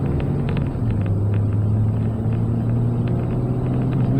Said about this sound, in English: You're gonna hear this Ram pickup groan a little bit now.